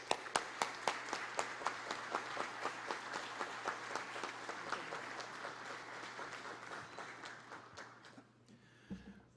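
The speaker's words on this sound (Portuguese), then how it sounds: "Vamos acolher e homenagear com muito carinho, uma salva de palmas" Sustained applause from an audience at a formal naval ceremony honouring Sailors' Day, steady clapping for several seconds at moderate volume before it tapers off and stops abruptly.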